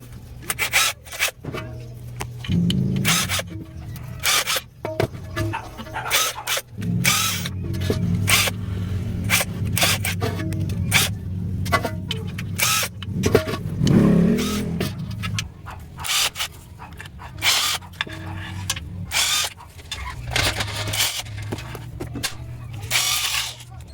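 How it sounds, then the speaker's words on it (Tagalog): Small 10mm bolts are worked loose from the transmission oil pan of a Toyota Fortuner, giving intermittent close scraping, ratcheting and metallic rubbing noises in irregular bursts, with occasional quiet voice in the background. "tatanggalin ko tong bolt na to. Yan, paikot yan, yung maliliit na bolt na to"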